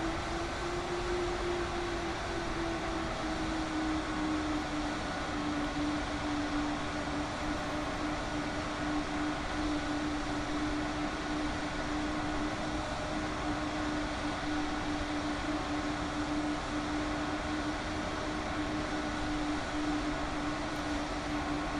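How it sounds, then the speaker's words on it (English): An airliner taxiing in Microsoft Flight Simulator 2020 gives off a continuous steady engine drone with a sustained low whine, even and unbroken for the whole stretch, with no voices. "So we're taxiing out to runway 1 right."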